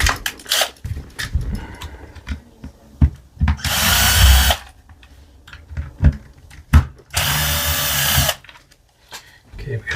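Removal of two stock screws from a Barra 250z air rifle with a 3 mm driver, heard as two bursts of buzzing power-driver whir, each lasting about a second, amid scattered clicks and handling knocks.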